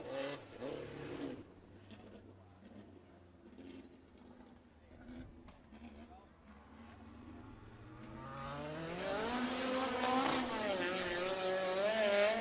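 A 4-cylinder midget race car on a qualifying lap at Circle City Raceway is heard at a distance, then it revs and grows louder as it comes around near, its rising engine note filling the end.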